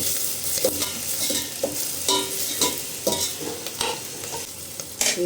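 Onion and green chili sizzling in a pan, stirred with a utensil that scrapes and clacks in repeated strokes over a constant close frying hiss.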